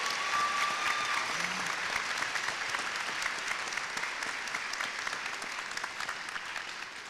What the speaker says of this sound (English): we should give them a round of applause and appreciation for their work